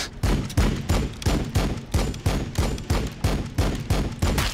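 Rapid volleys of gunfire from the Warhammer 40k Battle Sector game crack out in a steady repeating rhythm, about two bursts per second, loud and punchy with booming low ends and no talking.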